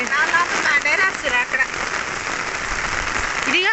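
Heavy rain falls continuously at Mahabalipuram, a close, constant pattering wash with a few faint voice-like sounds mixed in.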